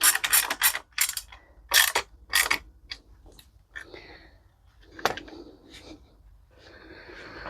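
A ratchet tightens bolts on the rear rack of a Triumph Scrambler 400X, with several quick loud bursts of clicking, pauses between them and softer creaks and metallic handling, close up.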